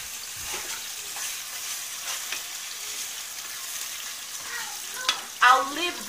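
Chopped onions and tomatoes fry in vegetable oil, producing a soft, steady sizzle with occasional spoon scrapes and stirring knocks, and a brief louder clatter near the end.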